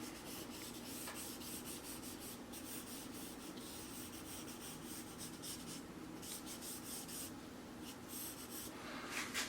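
A pencil sketches a hand on paper with continuous soft scratching and rubbing strokes, close and faint, with no talking.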